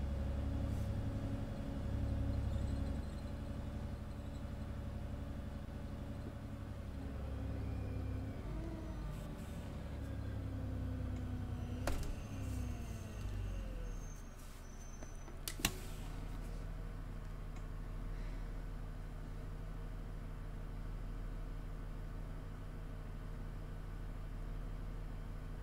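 A London bus, the Studio Polygon 400MMC on route 415 in OMSI 2, its engine idling with a steady low throbbing rumble that drops and settles into an even, quieter idle.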